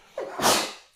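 A single close human sneeze: a short breathy intake, then a loud sharp burst that trails off quickly, with no other sounds.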